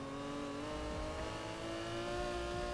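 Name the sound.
Aston Martin DB5 engine revving and sliding in Need for Speed Heat video game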